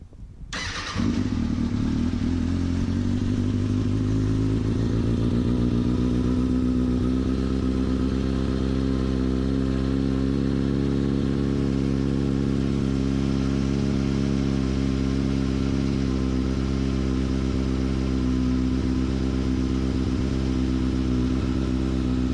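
A Kawasaki ZX-6R motorcycle cold-starts with a brief crank, then settles into a steady, loud, close-up idle with an even low throb held throughout, no talking.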